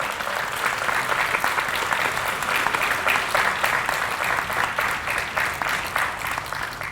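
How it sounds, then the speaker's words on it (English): An audience at a health-focused summit session applauds conference panelists, steady continuous clapping held at an even level for several seconds. "Please give our panelists a round of applause."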